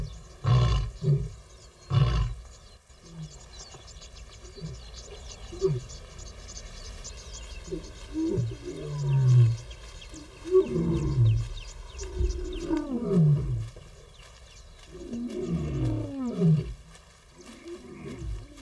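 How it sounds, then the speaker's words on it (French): A lion roars in a series of deep, loud calls in the wild African savanna, close by and repeating at intervals over a steady chorus of crickets and insects. "Puis il reprend son chemin en rugissant pour entamer un dialogue avec son compagnon resté plus loin."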